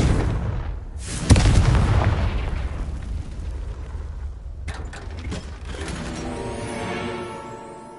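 A Confringo fire spell blast in Hogwarts Legacy, one loud booming explosion followed by a long rumbling decay, then a second crackling burst with a fading tail, no speech.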